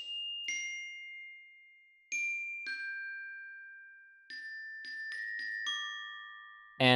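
Bell-like chimes play a slow melody from a Kingdom Hearts 358/2 Days motif, clear struck tones ringing out and decaying between notes, with a brief brighter burst at the end.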